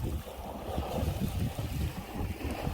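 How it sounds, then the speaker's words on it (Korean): Strong wind gusting at a rocky seaside fishing spot facing an offshore island, steady buffeting roar with low rumbling microphone noise throughout, no voices. "바람이 현재 이 방향에서 불고 있습니다"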